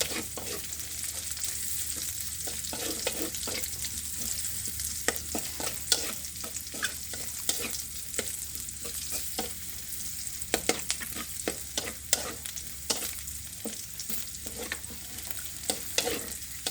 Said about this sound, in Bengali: গাজরটা দিয়ে দিলাম, একটু হালকা ভাজা হলে